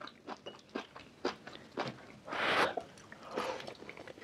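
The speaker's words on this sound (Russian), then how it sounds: "Жую-жую, не могу прожевать." A mouthful of reheated beef tripe being chewed up close: soft, wet, squishing bites in a steady rhythm, with one longer, louder crunchy burst partway through and no talking.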